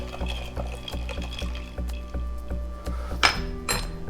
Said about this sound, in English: And then let's just gently stir.